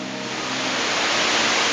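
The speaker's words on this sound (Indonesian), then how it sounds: "Sepanjang perjalanan, saya hanya mendengar suara derusan air." Rushing water from a hidden waterfall in the jungle of Simalungun, heard as a steady, dense hiss and roar that holds even and continuous, with no talking.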